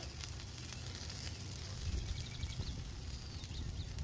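Bacon strips sizzle on a Blackstone flat-top griddle, a constant crackling hiss with small pops, moderately quiet and steady, with no voices over it.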